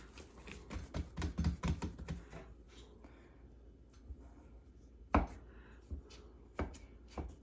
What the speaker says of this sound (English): We just use a spatula to do it.